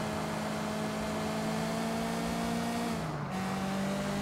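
A car drives in the video game Sleeping Dogs, a loud steady engine drone with a brief dip in pitch like a gear shift partway through, no talking.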